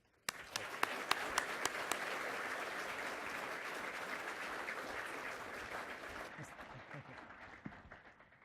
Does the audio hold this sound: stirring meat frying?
no